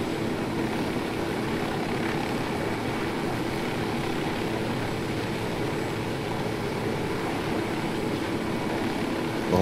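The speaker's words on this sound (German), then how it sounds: "du fliegst die ganze Zeit bei mir um den Heli rum" Helicopter rotor and engine drone from a Ghost Recon Wildlands game flight, a steady loud continuous whir filling the whole stretch with no voices.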